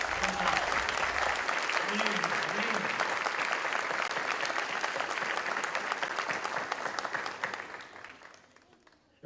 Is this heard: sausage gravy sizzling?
no